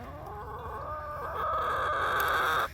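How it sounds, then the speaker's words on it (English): Chickens outside their coop in northern Canada give a drawn-out rising cluck and squawk, close and fairly loud, building for a couple of seconds before breaking off. "the chickens are finally getting comfortable actually coming outside during the day"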